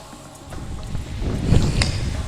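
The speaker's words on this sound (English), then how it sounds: "And this wind is really blowing hard." Strong wind buffets a microphone outdoors in a garden, a low rumbling gust that builds and roars loudest near the end of the short stretch.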